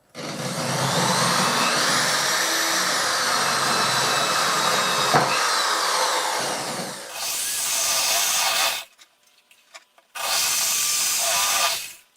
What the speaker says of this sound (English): using the same drill bit that I used for blowhole.